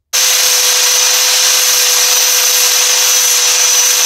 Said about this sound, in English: I went ahead and switched back to my 40 grit flap disc so I can try to round this out even better